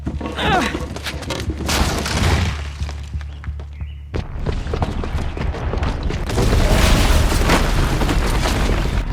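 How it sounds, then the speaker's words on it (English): A booby-trapped bomb going off in Horizon Zero Dawn, heavy booming blasts with rumbling debris and crackling bursts that keep going, briefly dip, then swell into a louder sustained roar. "the booby trap on the bomb downstairs is gonna get set off"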